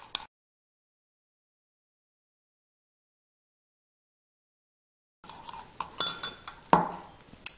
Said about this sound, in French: Donc bien mélanger entre chaque ingrédient.